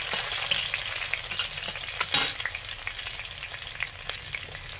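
Chopped garlic and green chilli fry in hot oil for chilli paneer, a steady bright sizzle with a sharp spatter burst partway through and soft stirring, no voices.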